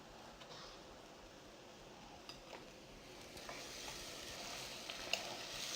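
Beef pieces fry in a pan, giving a faint, steady sizzle with occasional soft stirring clicks and scrapes throughout.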